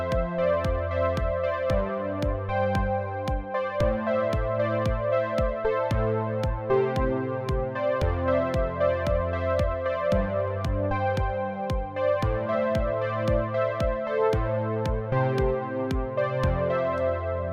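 Synthwave riff at 114 BPM, a steady syncopated pattern of bright synth chords over punchy bass notes and a regular beat, playing alone at an even level throughout.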